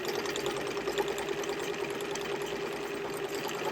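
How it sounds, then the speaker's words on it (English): A sewing machine stitches a drawstring bag with a steady, continuous mechanical whir throughout. "Sewing machine foot playing up."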